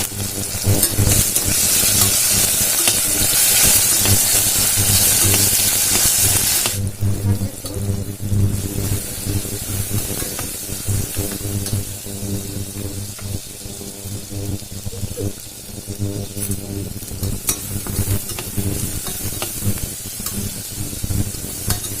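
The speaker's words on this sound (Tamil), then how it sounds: "நல்லா ஃப்ரை ஆகணுங்க." Onion, tomato and chilli sizzle loudly in a pan, the frying steady and close, with a brighter hissing start that settles into a lower crackle as the mixture is stirred.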